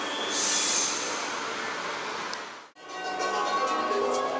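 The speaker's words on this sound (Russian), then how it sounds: "Вот оно, метро наше пришло." A metro train pulls in with a loud broadband roar and high wheel squeal, the noise briefly cutting out before the rumble resumes.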